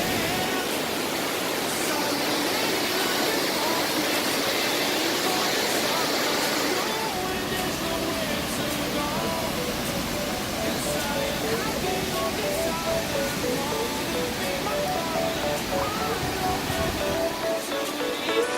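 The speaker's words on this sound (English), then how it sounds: "It's like a waterfall here." Rushing water roars as a continuous broadband wash, like a waterfall or fast stream, on a mountain loop hike on Isla Navarino in Chile, loud and steady for the whole stretch with faint talk mixed in.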